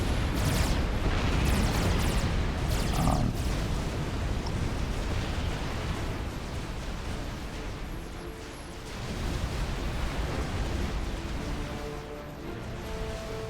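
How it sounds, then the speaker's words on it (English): Dense, continuous rumble of artillery barrages pounding a shield in the strategy game Wars of Glory, with clustered booms early on and a steady roar of impacts throughout, no talk. "Enormous amount of artillery usage. Has not successfully broken the shield."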